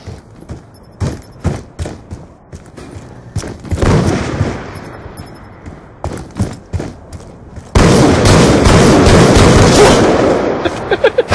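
Gunfire in a video game: quick bursts of sharp shots and rapid fire, loud and close, with a dense sustained stretch of firing late on and no talk.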